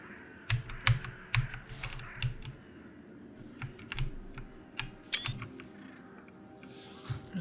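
Computer keyboard keys tapped in a quick, irregular series of close, crisp clicks while someone tries function keys during a PC tabletop game build session, with no talking.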